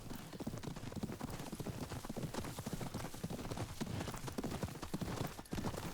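In the video game Ghost of Yōtei, a horse's hooves clip-clop in a steady, continuous rhythm, the quiet hoofbeats running throughout over a soft rustling background.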